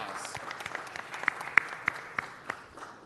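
Light applause at a city council meeting, a small group clapping in a room with a few sharper individual claps standing out, moderately faint.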